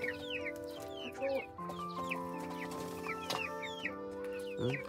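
Black-boned silkie chickens cluck and chirp softly and continuously nearby as they peck at rice on a farm, with some quiet background noise.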